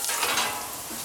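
Greek-style pork skewers sizzle steadily over lowered heat on a BBQ, a continuous close hiss of frying meat with no voices.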